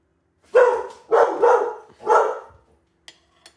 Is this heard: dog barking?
yes